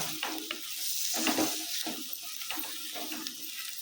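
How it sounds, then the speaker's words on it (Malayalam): Coriander powder being stirred into a chicken curry masala as it fries in a pot, with steady sizzling and repeated scraping strokes of the spoon, close and fairly quiet, no talking. "മല്ലിപ്പൊടി ഇനി ഒന്നും കൂടിയും ഒന്ന് പച്ചമണം വരുന്ന വരെ ഒന്ന് ഇളക്കി കൊടുക്കാം"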